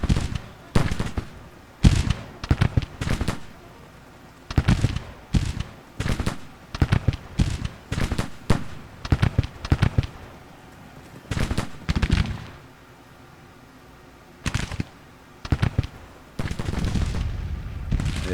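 Musket volleys crack repeatedly across a Grand Tactician: The Civil War battlefield, bursts of sharp, echoing shots in irregular clusters with short quiet gaps between them.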